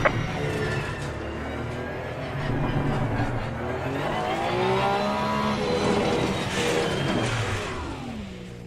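A black Ferrari race car in a racing sim roars past at speed, its engine note rising and sweeping in pitch over a dense, continuous bed of engine and road noise, loud and sustained throughout.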